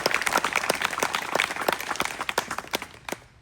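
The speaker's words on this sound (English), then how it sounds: "want to give them a round of applause for that." A small crowd gathered for a disc golf course grand opening claps for the course crew, a brisk burst of sharp hand claps that thins out to a few scattered claps before stopping.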